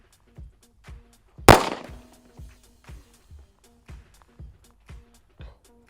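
A 4 1/4 inch compact pistol fires one loud, sharp shot at long range toward a steel target. The report rings out against a steady, regular ticking that runs through the whole stretch.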